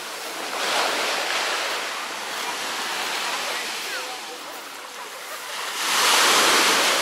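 Sea waves at Cleopatra Beach in Alanya roll and wash in a continuous broad surf roar, swelling near the start and again loudly toward the end, with some wind noise.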